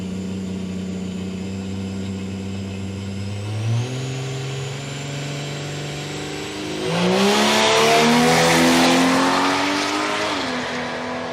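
An LDV van and a Ford TC Cortina launch down a drag strip at Palmyra Raceway, engines idling and then revving before a loud, rising roar as they accelerate away. The sound is close and strong, with no talk.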